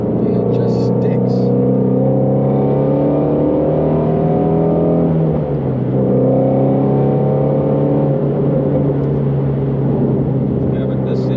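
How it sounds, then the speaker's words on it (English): A 2020 Ford Mustang GT350R engine pulling hard in third gear, loud rising tones that climb steadily, dip briefly at a shift, then climb again, with road rumble beneath and someone talking over it. "In third gear, it's such a good gear for this car."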